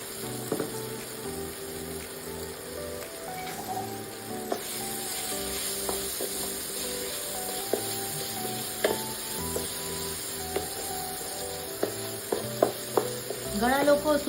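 Raw bananas fry in oil spiced with hing and turmeric, giving a steady close sizzle broken by scattered pops and stirring clinks, louder bursts toward the end.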